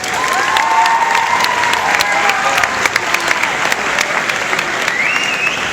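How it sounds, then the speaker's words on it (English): A school pep assembly crowd claps loudly and steadily, with cheers and shouts rising above the clapping, plus a whistle near the end. "Give them one more round of applause."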